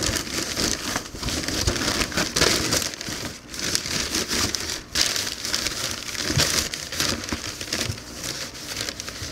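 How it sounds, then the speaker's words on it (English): Sheets of newspaper crumpled by hand while packing a shipping box, a close, continuous crinkling and crackling with irregular bursts and brief pauses. "I'll unfold it and just keep on crumpling it up and put it in there."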